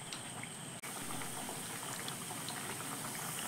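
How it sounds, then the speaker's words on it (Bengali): Pieces of a crispy snack drop into medium-hot frying oil, setting off a continuous close fizzing and bubbling sizzle that holds steady after a brief pause. "এবার কয়েকটা আমি তেলের মধ্যে ছেড়ে দিচ্ছি"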